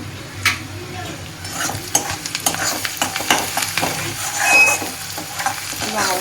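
Onion fries in a pan until almost browned for an egg dish. The close sizzle is broken by frequent scraping, clinking stirs of a spatula against the pan, with no talk.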